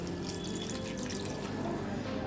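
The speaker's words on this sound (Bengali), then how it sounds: "আমি জলটা দিয়ে দিই ওই সেদ্ধ হলেই হয়ে যাবে" Water pouring steadily into a cooking pot for pasta in a home kitchen, a continuous close splashing and running sound with no talk.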